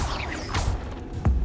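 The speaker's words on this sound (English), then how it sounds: "Incendio. Set it on fire." The Incendio fire spell being cast in the video game Hogwarts Legacy: a quick whooshing burst followed by a sharp, heavy impact, short and close amid combat noise.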